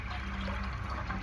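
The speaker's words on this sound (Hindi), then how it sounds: "अब हम उसमें एक बड़ा ग्लास और पानी डाल के" A large glass of water poured into a pressure cooker during home cooking of white lobia beans, a steady close gush of liquid running continuously without pause, no voices.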